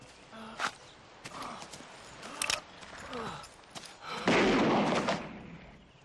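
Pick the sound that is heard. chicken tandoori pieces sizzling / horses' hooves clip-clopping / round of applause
horses' hooves clip-clopping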